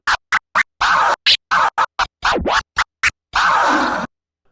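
A voice imitates a DJ record scratch pattern out loud, with a rapid run of short, sharp, breathy bursts, a rising and falling swoop in the middle and one longer held scratch at the end, close and alone.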